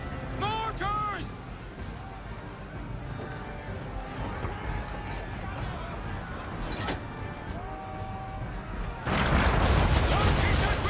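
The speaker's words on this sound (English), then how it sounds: "Mortars!" Mortar fire in Assassin's Creed 3 aboard a ship at sea, a barrage of booms and splashes under a busy mix of shouting voices and game sounds, ending in a loud, dense burst of impacts.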